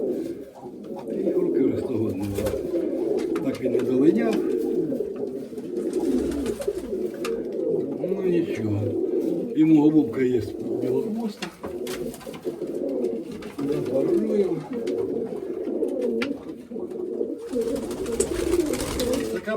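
Mykolaiv pigeons coo in soft, repeated rolling calls, close and continuous, with people talking intermittently among the birds.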